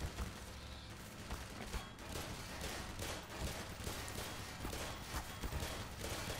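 An automated turret in Black Mesa fires a rapid, continuous stream of shots, faint and somewhat distant, running steadily throughout.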